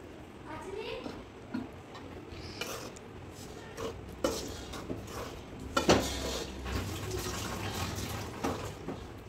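Roasted gram flour and ghee being stirred in a pan for besan ladoo, with irregular scraping and clinks of a spoon against metal throughout, a sharper knock near the middle, over faint background noise.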